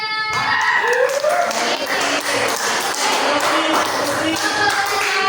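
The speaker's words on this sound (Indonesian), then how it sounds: "Oke tepuk tangan semuanya" A classroom of students claps together during an Arabic literature lesson, a dense, steady patter of many hands, close and loud throughout, with voices mixed in.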